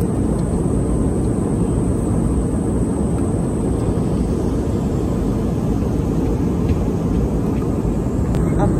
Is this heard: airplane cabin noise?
yes